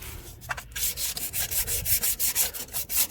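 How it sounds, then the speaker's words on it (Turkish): Sandpaper rubs back and forth on a TVS Jupiter scooter's rear brake part in steady, rhythmic strokes, a close scratchy rasp repeating about every third of a second. "Şimdi şunun etrafını da bir zımpara çekek"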